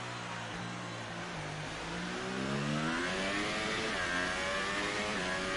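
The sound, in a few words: Formula 1 car engine accelerating at COTA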